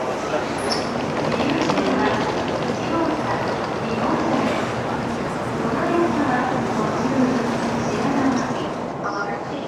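A Japanese passenger train carries riders on a trip of about two hours, its steady rolling rumble and rushing noise continuing underneath voices talking inside the carriage.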